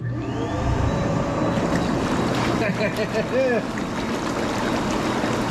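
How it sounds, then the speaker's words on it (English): Water churning and bubbling from the jets of a RELXTIME 4-6 person inflatable hot tub, a steady loud wash with a low pump hum throughout. "let's check out some bubbles here"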